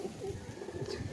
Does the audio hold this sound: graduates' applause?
no